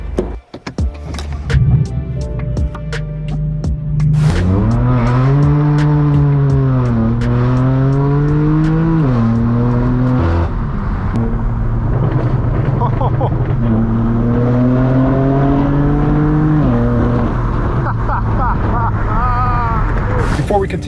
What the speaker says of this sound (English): You guys join me here with my straight pipe BMW M4.